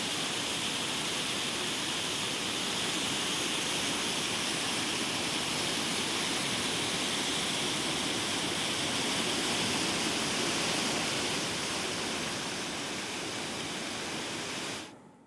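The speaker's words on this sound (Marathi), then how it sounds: "आता या धरणावरून वाहणारं पाणी, त्याच्यामध्ये पडणारा धोधो पाऊस" Water pours steadily over a dam during a heavy monsoon downpour, a dense, constant roar of rushing water and rain at close range, holding level throughout and then cutting off abruptly at the very end.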